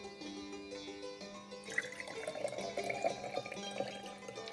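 Liquid holding azurite pigment is poured out of a jar, a thin trickling stream that starts partway through and carries on in gentle splashes, with some faint background tones.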